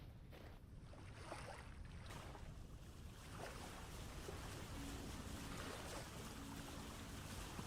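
A boat sails across water in Vintage Story, a faint, steady wash of waves and wind noise with soft creaking, continuous and without talk.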